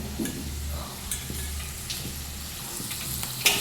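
Soft crackling sizzle of puffed rice spluttering in hot oil, steady with small pops and a brief sharp crackle near the end.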